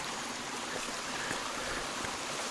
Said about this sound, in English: Got a creek crossing here. This is a tributary coming the opposite way